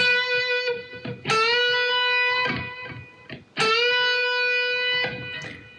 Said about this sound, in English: I'm going to bend this A until it sounds like this B